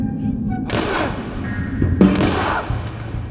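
Two loud gunshots fired in the video game The Last of Us: Left Behind, each a sharp crack with a decaying tail, spaced over a second apart, with only faint voices around them.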